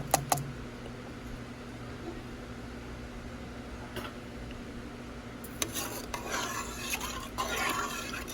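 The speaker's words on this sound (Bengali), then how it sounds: "নেড়ে চেড়ে দিচ্ছি ভালো করে" Rice being stirred with salt and shahi cumin in a pot while making mutton pakki biryani, quiet at first, then a few light clinks and scrapes building into a busier stirring rustle toward the end, with no talk.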